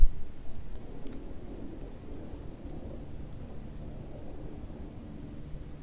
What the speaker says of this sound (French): le bruit là qu'on entend, c'est quand il y a des tempêtes radioactives qui arrivent.